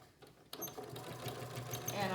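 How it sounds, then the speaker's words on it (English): Sewing machine running steadily as binding is stitched onto a quilt, starting after a brief quiet moment and continuing as a close, even whir with some faint talk underneath. "And I'm just going to sew, keeping everything lined up."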